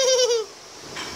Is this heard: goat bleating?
yes